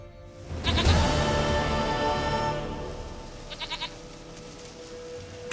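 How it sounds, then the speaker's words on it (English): Goat in The Witcher 3 letting out a long, wavering bleat close by, followed by a few shorter, quieter bleats that trail off. "Goat of mine, dearest,"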